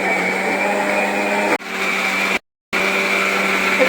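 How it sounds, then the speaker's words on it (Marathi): A kitchen mixer grinder whirs steadily while grinding batter for vada, a loud continuous motor drone that dips briefly, cuts out for a moment, then starts up again at full strength. "पिसण्याचं काम चालू आहे"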